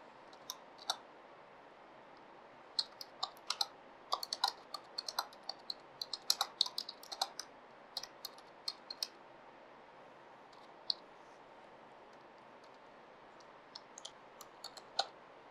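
Java code typed on a computer keyboard: light, irregular key clicks in scattered bursts with brief pauses, close and fairly quiet over faint room hiss, with no voices.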